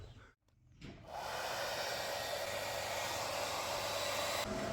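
Two hair dryers running together off a battery cabinet, a steady loud broadband whoosh that starts after about a second of handling noise and holds constant, then cuts off near the end.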